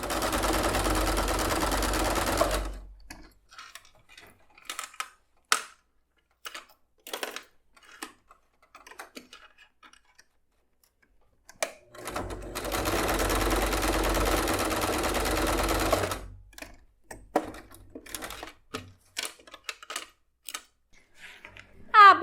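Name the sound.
sewing machine stitching a seam on a bag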